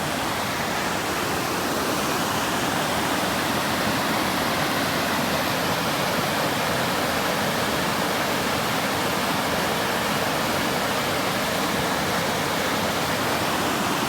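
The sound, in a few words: water rushing through Clarendon Gorge, Vermont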